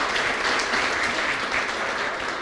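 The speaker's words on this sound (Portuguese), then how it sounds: "Pode aplaudir essa Bonequinha." Audience applause for a newborn baby girl during a live talk event, a steady dense wash of many hands clapping at close range throughout, with no voices over it.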